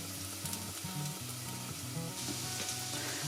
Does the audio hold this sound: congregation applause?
no